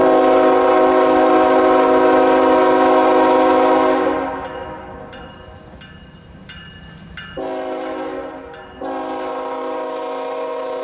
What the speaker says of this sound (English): The hopper train, EO15, was just starting to double out.